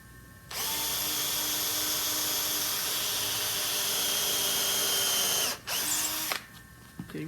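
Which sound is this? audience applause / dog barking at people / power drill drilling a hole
power drill drilling a hole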